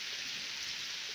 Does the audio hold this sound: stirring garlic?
no